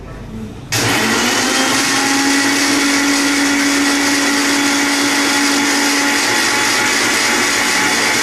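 A blender crushing ice switches on abruptly and roars at full power, a loud steady whirring drone that continues without pause.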